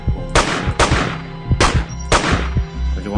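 Four sharp video game gunshots ring out in uneven succession, each a loud burst with a short tail, over faint background rumble.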